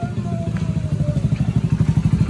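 A modified motorcycle engine, likely a Bajaj Chetak or Hero Splendor, idles nearby in a steady pulsing chug, loud and alone without talk.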